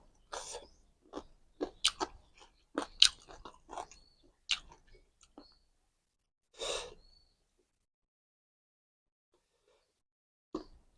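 Crunchy pork bone being bitten and chewed alongside spicy papaya salad, with a run of close, sharp crunching bites over the first five seconds, one more loud crunch near seven seconds and a final one at the end, silence between.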